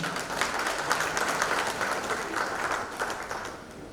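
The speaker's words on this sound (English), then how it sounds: "Let's give a huge round of applause and welcome him" Audience at an awards ceremony applauds steadily, a dense continuous clapping from a sizeable crowd that stays even for several seconds.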